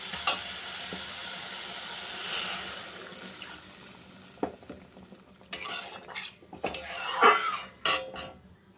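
Water is poured into a pan of frying spice paste for a fish curry, giving a soft hiss that builds into louder bursts of sizzling and bubbling, with a few metal scrapes and clinks of a utensil against the pan.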